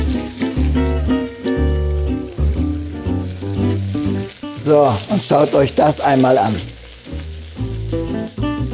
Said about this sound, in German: Und da braten wir ihn jetzt den Zander auf der Haut einmal an.